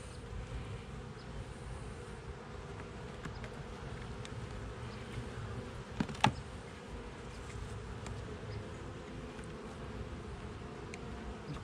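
Honeybees buzzing steadily around an open hive full of brood during an autumn inspection, a dense continuous drone close by with a few sharper clicks from hive frames or tools near the middle.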